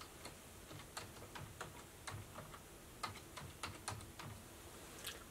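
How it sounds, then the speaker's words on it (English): Computer keyboard typing, quiet and close, with irregular clusters of key clicks over a low background hum and no voice. "let me type in where this is found"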